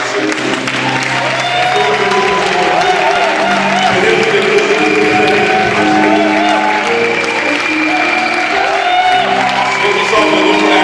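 A church congregation applauding and cheering, with dense, sustained clapping mixed with shouts and whoops throughout, loud and close, alongside voices in the crowd.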